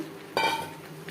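Pointed gourd tipped into a hot pan of cooked-down spices over a high gas flame: a single close clatter and sizzle that quickly fades into a quiet hiss.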